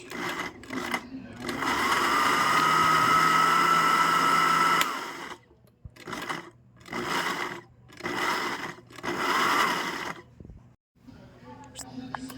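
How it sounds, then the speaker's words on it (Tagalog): An electric blender whirs steadily for about five seconds as it purees kimchi ingredients with fish sauce, then stops and restarts in several shorter bursts, loud and close. "i-blend na natin hanggang sa ma-finish ang mabuti"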